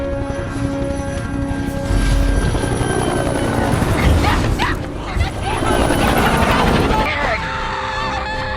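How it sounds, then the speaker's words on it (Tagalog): Helicopters searching overhead in a Transformers film scene produce a steady, loud rotor and engine roar that fills the whole stretch, mixed with other dense film sound and faint voices. "maingat na nilagpasan ang mga helicopter na naghanap sa kanila"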